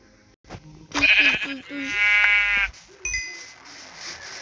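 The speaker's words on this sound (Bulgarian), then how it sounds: "Още една овца." A Minecraft sheep bleats loudly with a wavering, nasal cry, followed by a short chime-like ding and faint background noise.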